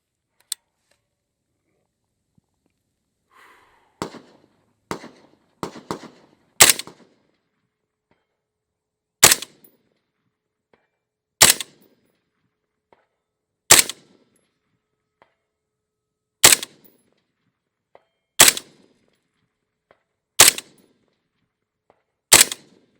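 An M16A4 rifle firing M855 rounds outdoors, with some faint handling clicks and then about ten sharp, loud single shots at steady intervals of roughly two seconds, each ringing out briefly over quiet; no speech.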